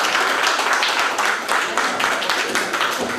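Clapping in an Italian courtroom after an acquittal verdict is read, a fairly loud, uneven patter of hands that carries on without letting up.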